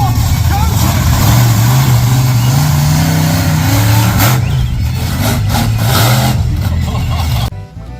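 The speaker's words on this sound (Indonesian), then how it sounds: "lihat yang ini teman-teman, ada mobil monster lagi ya" A monster truck engine revs loudly and continuously, its pitch climbing and falling through several surges for about seven seconds before cutting off abruptly, with voices in the background.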